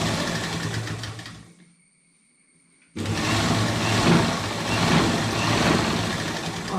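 A sewing machine stitches a frock in a steady rapid whir, stopping briefly with a faint hum before running again at full speed; close and loud.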